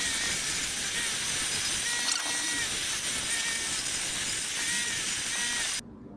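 A workshop bench grinder fitted with a wire wheel runs with a steady, loud, bright whirring hiss for several seconds, then cuts off abruptly near the end.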